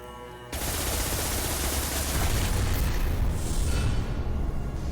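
Dense, continuous SMG fire in Mass Effect 2: Legendary Edition, a loud sustained rattle of rapid shots with booming impacts that starts abruptly after a half-second lull and runs steadily to the end.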